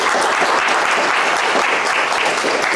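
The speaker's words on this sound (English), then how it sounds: "Let's give a round of applause for Matthew and Danny." A convention audience claps in loud, dense, sustained applause that fills the room without a break, after a panel presentation at Gen Con 2023.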